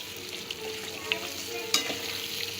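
Thick tamarind paste for puli kaichal cooked with jaggery in a pan, a quiet sizzle with a few sharp scraping and tapping stir sounds close by.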